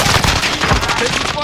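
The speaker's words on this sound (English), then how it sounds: "Taking fire here." Rapid burst-fire rounds from a Fennec submachine gun in Call of Duty: Warzone, a dense, loud rattle of closely packed shots filling the whole moment.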